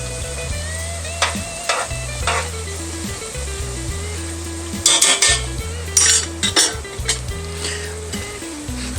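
Onions, peppers and garlic sizzle loudly in a pan while a utensil repeatedly scrapes and clinks against it, all over a low, droning tonal hum in the background.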